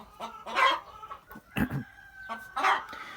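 Livenska calico hens in a summer aviary clucking in short bursts close by, with a few louder squawks between quieter murmurs.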